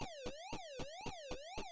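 The Pac-Man siren from the arcade video game, a synthetic warbling tone sliding steadily up and down in a fast regular cycle, with crackly pulses marking each turn, loud and alone.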